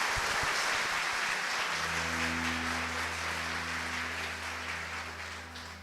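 A Catholic congregation applauds at a feast-day Mass for the sick, a broad wash of clapping that gives way to sustained low organ-like tones while the applause fades under them.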